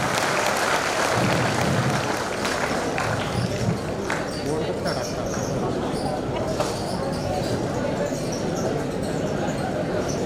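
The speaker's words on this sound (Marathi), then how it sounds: "तुमचा नंबर लागू शकतो जरा टाळ्या वाजवून त्या तुमच्यासाठी." An audience at a shop coupon prize draw claps in dense, continuous applause that stays loud throughout, mixed with crowd noise and voices.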